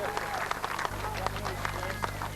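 A crowd at a 1999 Britain's Strongest Man heat cheers and claps in a steady busy wash of applause, with an announcer talking over it.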